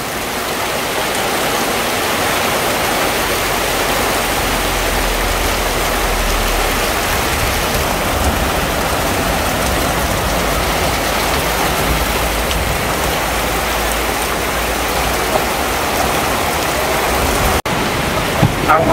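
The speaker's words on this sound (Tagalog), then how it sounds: "malakas pa rin ang ating ulan" Heavy rain pours down on a backyard garden as a loud, dense, unbroken hiss of drops spattering on surfaces, steady from start to finish.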